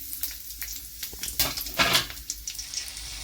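Dried curry leaves, chilli and a broken cinnamon stick drop into hot oil, setting off a close, crackling sizzle that swells around the middle with spatter and a light stir, then settles to a steady fry.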